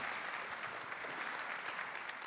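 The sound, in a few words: audience applause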